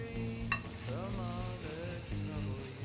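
Leek, crab and prawn filling heats in butter in a pan, giving a soft, steady sizzle with light stirring and a faint tap near the start, while melodic background tones carry over it.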